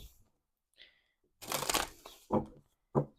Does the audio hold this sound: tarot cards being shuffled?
yes